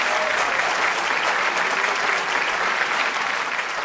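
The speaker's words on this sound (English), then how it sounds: "Another round of applause." Dense, steady audience applause fills the room at a Ghanaian youth presidential contest show, loud and unbroken from start to finish with no clear voices.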